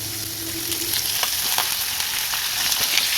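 Half a kilo of turmeric-washed chicken sautéing in oil with onion and ginger garlic paste, a steady close sizzle with scattered pops and stirring clicks throughout, no talking.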